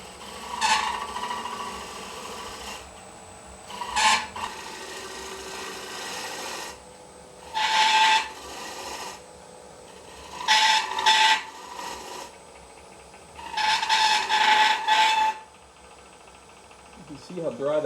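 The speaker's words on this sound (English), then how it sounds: "I'm going to use the shear scrape to do that." Shear scraper dragged across the base of a dry mulberry wood bowl on a lathe, heard as a series of rasping scraping passes of a second or two each over a steady motor hum, with speech between passes.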